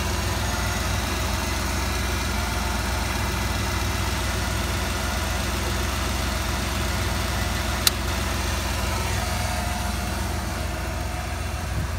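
A 1996 Ford F-350 with a 7.5L 460 V8, started after sitting over a year, idling steadily with a loud, constant low rumble and a single brief sharp click partway through.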